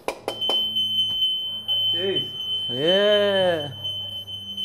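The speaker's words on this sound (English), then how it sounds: "Good old earthquake alarm." An earthquake alarm in a home in Kathmandu, Nepal, sounds a steady high electronic tone with short beeps while people talk and exclaim nearby.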